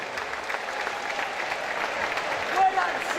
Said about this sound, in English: they deserve the biggest round of applause for raising all this money for the Amelia May Foundation